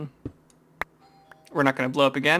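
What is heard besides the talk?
doorbell ringing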